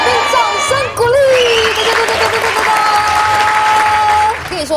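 A studio audience applauds during a food show featuring spicy Sichuan crayfish, a loud sustained clatter of clapping with some cheering, while a host's voice and a tonal sound effect ring over the top.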